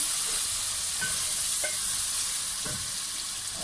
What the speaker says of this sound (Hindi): थोड़ा सा भूनेंगे